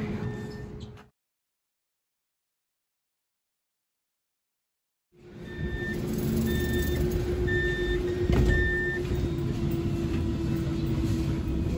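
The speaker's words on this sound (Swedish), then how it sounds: "Och här har vi spårvagnen." A Lidingöbanan tram at Ropsten station rumbles steadily after a short silence, with a constant low drone, some faint intermittent tones and a brief louder swell partway through; it sounds near and moderately loud.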